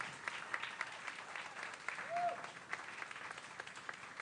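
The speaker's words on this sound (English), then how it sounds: "Let's give everybody another round of applause today." Steady applause from a crowd at a junior fair king and queen coronation fills the room, even and sustained throughout, with a brief whistle-like tone partway through.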